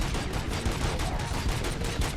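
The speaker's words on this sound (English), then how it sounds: "Gunshots? What's going on?" Rapid automatic gunfire fills a firefight in the RoboCop: Rogue City video game, dense overlapping bursts and shots continuing throughout at close, loud range with no speech.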